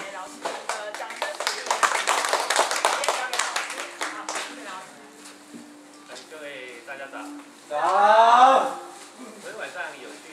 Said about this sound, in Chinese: 那我们是不是给老师一个掌声？